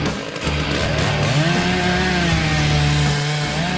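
A chainsaw cutting down a Christmas tree, the engine catching and climbing into a loud, sustained whine as the chain bites into the trunk, close and continuous with a slight pitch sag under load.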